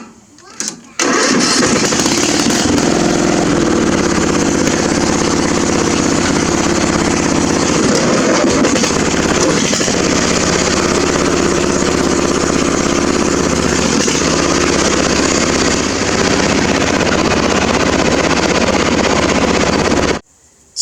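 A small engine, likely a backyard lawn mower, cold starts on choke and then roars loudly and steadily nearby for about twenty seconds before cutting off.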